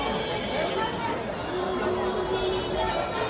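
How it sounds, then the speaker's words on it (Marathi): Dense crowd chatter at the Mahalaxmi Jatra temple fair in Dahanu: many overlapping voices and a steady babble fill the air, with faint clinks and bustle mixed in throughout. "खूपच गर्दी आहे"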